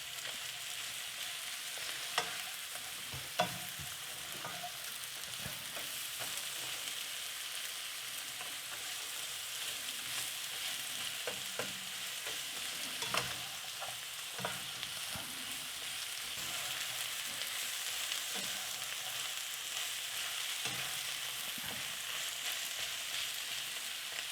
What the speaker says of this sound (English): just cook the mushrooms for a little while, not for too long